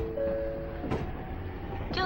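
A Keifuku Mobo 101 tram running between Arashiyama and Shijo-Omiya in the Densha de Go railway driving game, with a steady low rumble of rolling wheels, a brief chime-like tone and a faint announcement voice over it.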